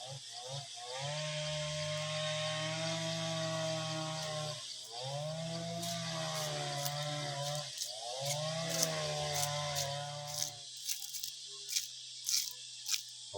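A motorized saw cutting wood in a forest whines at a steady pitch, bogging down and rising again in repeated cuts, followed by sharp clattering knocks.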